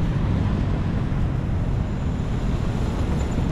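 A boat motor drones on the Pasig River where people fish for tilapia and snakehead, a steady low rumble mixed with wind buffeting the microphone, continuous and moderately loud.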